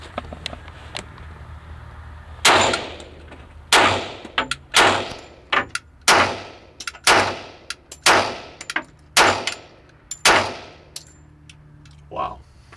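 A SIG Sauer P220 pistol fires about a dozen loud close shots outdoors, each a sharp crack with a ringing tail, spaced in irregular pairs and singles about a second apart.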